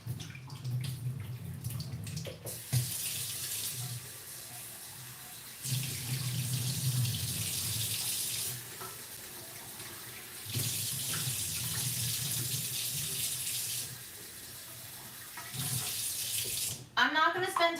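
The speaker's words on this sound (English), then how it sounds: "I'm going to spray it with some water" Water is sprayed onto a loaf of bread before baking in three soft, steady hissing bursts of a few seconds each, with quiet pauses between them.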